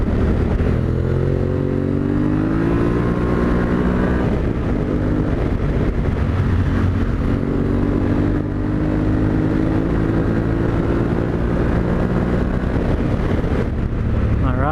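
Yamaha Tenere adventure motorcycle ridden off-road over large rocks near a creek, its engine droning loud and close with rising and falling revs, wind buffeting the microphone.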